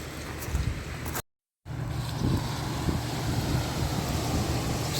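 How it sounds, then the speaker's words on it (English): Waves wash against a sandy beach at Portsoy, a steady rushing surf under wind noise, moderately quiet, with a brief silent gap early on. "Just love hearing the sort of the water crash against the sand there."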